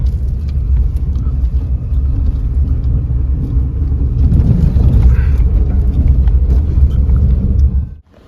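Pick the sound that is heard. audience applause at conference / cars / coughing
cars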